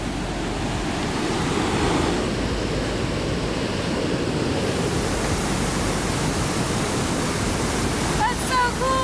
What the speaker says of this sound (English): there's a waterfall, and I've never seen it running this crazy